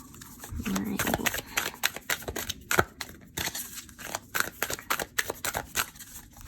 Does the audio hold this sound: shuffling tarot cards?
yes